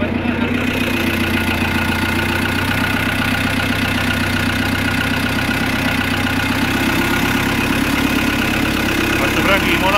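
A tractor engine idles with a low, even chugging that holds for the whole stretch, close and fairly loud, with faint voices underneath.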